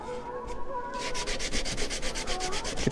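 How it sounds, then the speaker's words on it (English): Hand sanding the pins of a walnut dovetail box: a steady, rasping rub of sandpaper on wood in quick regular back-and-forth strokes, close and continuous with no talk. "Get these pins sanded down."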